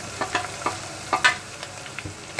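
Browned onions sizzle softly in a pan, with scattered clicks and scrapes of a spoon stirring at close range.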